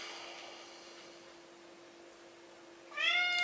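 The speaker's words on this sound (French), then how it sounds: "c'est le chat de la voisine." A neighbour's cat gives one clear meow near the end after a stretch of quiet room hum, fairly close and distinct against the faint background.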